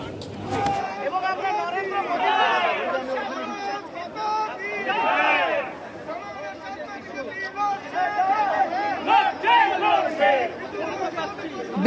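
Crowd chatter and shouting rise and fall in waves at a BJP street protest march over electricity prices toward the CESC building in Kolkata, in the rain, with voices loud and close throughout.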